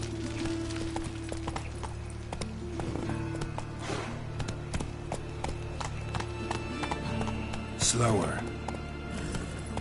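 Roach, a horse in The Witcher 3, clip-clops along with rapid, steady hoofbeats against an ambient game backdrop, with a brief whinny near the end and a voice speaking over it.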